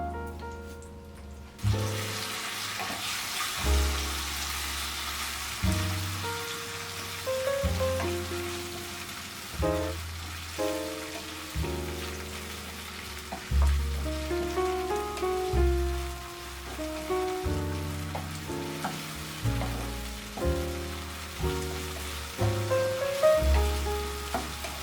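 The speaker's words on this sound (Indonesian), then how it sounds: "Nyalakan api sedang, tumis bumbu sambil diaduk-aduk." Spice paste sautéing in four tablespoons of cooking oil over medium heat, a steady close sizzle with repeated scraping and stirring strokes of a spoon against the pan, recurring rhythmically throughout.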